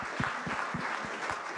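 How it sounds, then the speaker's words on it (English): Audience applause for a panel at a talk on progress and preservation along Atlantic Avenue, a steady wash of many hands clapping at moderate level, with a few louder low thumps scattered through it. "I wanted to give a round of applause to the panelists"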